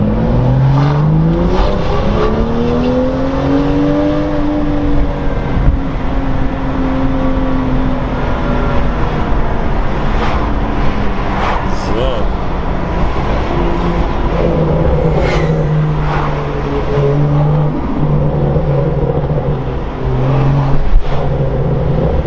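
A BMW M2 fitted with an Akrapovic Evolution exhaust and manual gearbox revs loud and close, its engine note climbing and falling through repeated sweeps for over twenty seconds with no talking.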